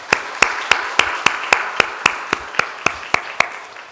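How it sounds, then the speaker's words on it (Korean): A church congregation at a Sunday service claps for the men who disinfect the church each week. The claps land in a steady, evenly spaced rhythm, sharp and moderately loud over a low hum of the room, with no talking. "이분들을 위해서 박수 한번 하겠습니다."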